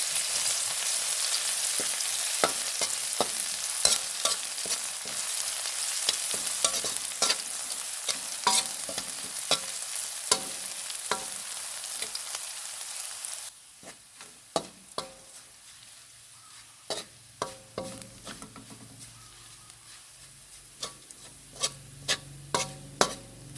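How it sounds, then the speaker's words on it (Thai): Oil hisses and sizzles as garlic fries in a pan while a utensil clicks and scrapes repeatedly; the sizzle drops off partway, leaving quieter sporadic tapping. "เราจะมาเจียวกระเทียมก่อนเจ้า"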